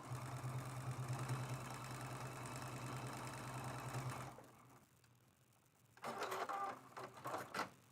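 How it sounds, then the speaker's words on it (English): Sewing machine stitching quilt fabric for a paper-pieced mug rug and placemat, running steadily and humming for about four seconds, then stopping; after a quiet gap, brief bursts of handling and needle movement follow. "And now I'm just sewing right off the edge."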